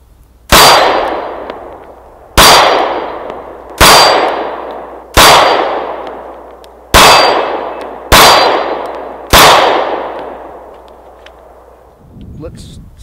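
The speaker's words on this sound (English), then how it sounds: "First shot's fired." Seven loud shots from a Glock 43 9mm pistol hitting steel targets, each a sharp bang with a ringing metallic clang that decays over about a second, spaced roughly evenly outdoors.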